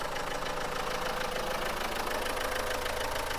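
A used 2019-model diesel car engine idles with a steady, rough mechanical clatter and low drone, close and constant throughout, with no one talking.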